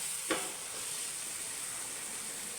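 Eggs sizzling in an egg roast masala: a steady, even frying hiss holds throughout, with a single brief clink near the start.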